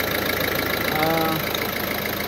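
A 2010 Ford C-Max after an engine replacement runs at a steady idle with a rhythmic low hum, while a voice talks over it.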